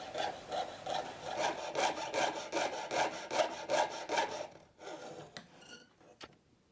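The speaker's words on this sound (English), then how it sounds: "When you have a curve, it's always a good idea to move the metal rather than the saw blade" Fine jeweller's saw blade rasps through thin copper sheet while cutting an oak leaf pendant, a steady rapid back-and-forth stroke rhythm, close and alone, ending with a few light taps and scrapes as the metal is turned on a curve.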